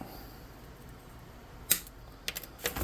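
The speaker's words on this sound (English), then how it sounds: "Get some bigger snippers. And just snip off that." Bigger snippers cutting off a piece of a miniature bed for tabletop game furniture, giving a sharp snip followed by a few smaller clicks against quiet room noise.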